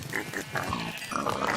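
Pigs in the Minecraft video game grunting and oinking in a compact breeding setup, several short snorts in quick succession against a faint game backdrop.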